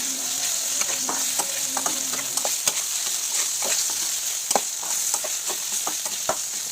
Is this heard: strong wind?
no